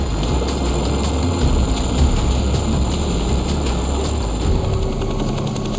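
A military helicopter flying overhead, its rapid rotor thumping steady and loud against a dense engine roar.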